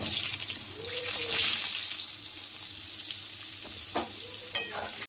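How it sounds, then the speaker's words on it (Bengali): Potatoes sizzle in the oil left over from frying fish, a steady crackling fry broken by a few stirring scrapes and clinks near the end. "মাছ ভাজা তেলের মধ্যেই আলুগুলো ভেজে নিচ্ছি।"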